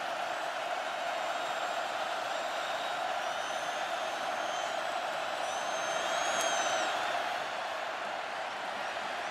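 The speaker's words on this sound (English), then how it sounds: "Crowd gets louder and louder." Football stadium crowd during a North Carolina at Virginia Tech college game on third down, a steady distant roar with faint whistles that swells slightly before easing, no talk over it.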